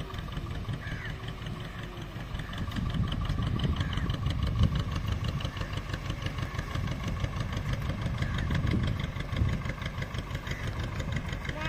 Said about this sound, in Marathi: ही सिंगल सिलेंडरची होडी आहे